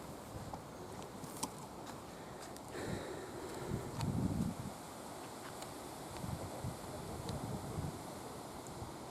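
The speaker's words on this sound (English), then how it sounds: "bloody windy down here today" Wind buffets the microphone in rough gusts, a continuous low rumble swelling louder midway, with no voices.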